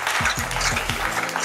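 Audience applause at a Holi special family contest held at a Senco Gold and Diamonds store: dense, steady clapping for the whole moment, with a faint voice running underneath.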